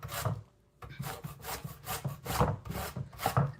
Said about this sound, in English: I'm gonna zest my lemon. Well, actually, I want to use the bigger grate